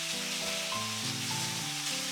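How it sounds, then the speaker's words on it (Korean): Pork and potato jjageuli sizzles in a pan as the seasoning sauce is stirred in, a steady wet frying hiss running throughout, close and even. "고기가 반 정도 익었으면 아까 만들어둔 양념 전부 다 넣어주세요. 살살 볶아주시면 돼요."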